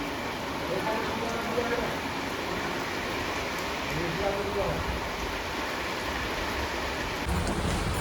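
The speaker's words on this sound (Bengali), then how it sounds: "এখানে প্রচুর বৃষ্টি হচ্ছে" Steady, dense hiss of heavy rain pouring down, a constant broadband wash with no breaks.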